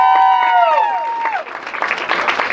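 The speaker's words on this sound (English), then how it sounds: "Let's give them a round of applause." Crowd applause at the opening of a new Sheetz store in Michigan, rising under a fading sustained tone, then swelling into fuller clapping with scattered cheers.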